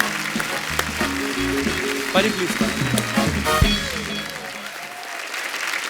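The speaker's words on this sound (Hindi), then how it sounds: "जोरदार तालियां हो जाए एक बार।" Studio audience on a comedy talk show breaks into applause beneath background music, the clapping broad and sustained while someone briefly speaks over it.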